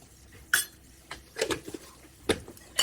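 Spices being mixed into onion kadhi in a pot, heard as a few sharp spoon clinks and scrapes against the metal spaced out over a quiet background, close and fairly loud.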